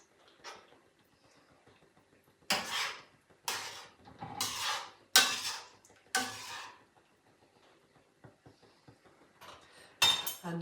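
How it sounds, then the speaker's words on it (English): Cream being stirred into a chicken sauce in a pan: several loud bursts of spoon scraping and clinking against the pan in quick succession, with quiet gaps between and one more burst at the end. "I'm going to stir that in. Make sure it's mixed in."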